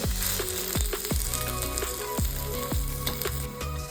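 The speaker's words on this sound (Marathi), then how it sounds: "कांद्याला छान तांबूस रंग येईपर्यंत कांदा भाजून घेऊ।" Onion fries in a pan for a Maharashtrian shev bhaji, a steady dense sizzle close up, punctuated by several soft rhythmic thuds and scrapes of stirring.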